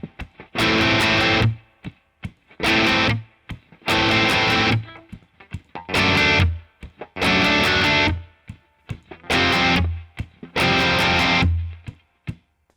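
Distorted electric guitar plays the opening tab line of a song, seven loud sustained strummed bursts separated by brief muted gaps, close and alone with no talking.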